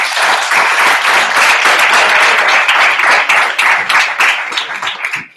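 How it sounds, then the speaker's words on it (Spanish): A group at a training session claps together in loud, dense applause that holds steady before thinning and fading out at the end. "regalamos un fuerte aplauso a ustedes"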